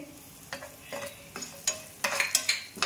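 Cashew pieces and raisins fry in a pan with ginger, crushed coriander, turmeric, chili powder and garam masala for a samosa filling, with a soft sizzle under sharp, intermittent scraping taps from a stirring spoon.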